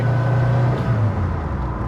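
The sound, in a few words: Ford Pinto car driving on a test drive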